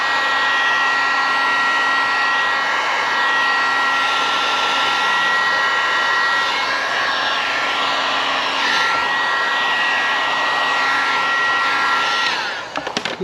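A heat gun works on a part from a vintage Honda CL350 motorcycle, blowing with a loud, steady airy roar that holds constant for about twelve seconds before clicking off, no voices over it.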